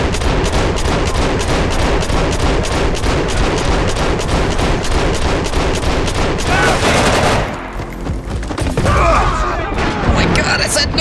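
Grenade launcher fire and heavy gunfire in the Max Payne 3 video game form a loud, dense barrage of blasts that pounds on continuously, briefly dips, then resumes.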